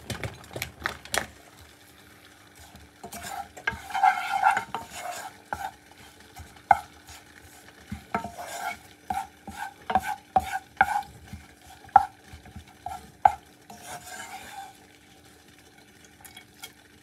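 Oil heats in a pan with rosemary and bay leaf, giving soft crackles and small popping bursts against a quiet background, close and fairly faint, with no voices.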